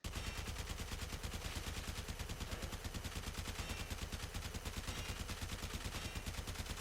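A fully automatic weapon in the video game Warframe firing a long unbroken burst, rapid even shots in fast rhythm, sustained throughout and alone without talk.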